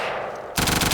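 A PPSH from a Minecraft guns mod opens up in a loud, close burst of rapid automatic fire that starts abruptly after a quieter tail from earlier shots.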